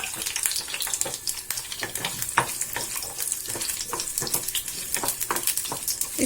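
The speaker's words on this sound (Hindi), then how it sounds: "वापिस से बचे हुए तेल में हम प्याज को फ्राई कर लेते हैं।" Sliced onion fries in leftover oil in a home kitchen, giving a close, continuous crackling sizzle with irregular sharper pops and stirring scrapes.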